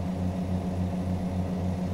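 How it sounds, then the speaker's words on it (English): A helicopter in an American Truck Simulator drive gives a steady low rhythmic rotor thump that pulses evenly under continuous engine and road rumble, with no speech. "Oh, look, there's a helicopter in the sky."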